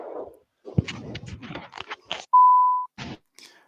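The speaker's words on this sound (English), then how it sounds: "Beep indeed." A single pure electronic beep tone lasts about half a second, clean and loud, inserted between bursts of people talking in a football fan discussion.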